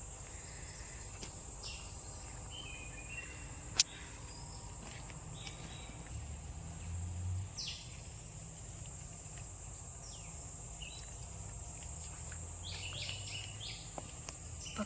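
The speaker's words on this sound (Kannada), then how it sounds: "ಪಕ್ಷಿಗಳ ಸೌಂಡು, ನಿಮಗೆ ಕೇಳಿಸ್ತಾ ಇರಬೇಕು." Crickets and other insects chirp in a steady high drone in an outdoor nature park, with faint scattered bird calls and a soft low rumble in the background.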